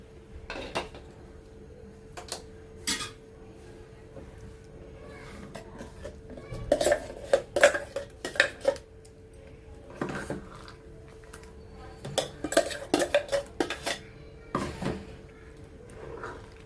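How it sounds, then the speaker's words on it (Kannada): Ground paste is mixed into cooked cucumber in an opened pressure cooker, giving repeated metallic clinks and scrapes of a spoon against the vessel in irregular bursts over a quiet background. "ಇವಾಗ ಇದಕ್ಕೆ ರುಬ್ಬಿರೋದನ್ನು ಮಿಕ್ಸ್ ಮಾಡ್ಕೊಳ್ಳೋಣ."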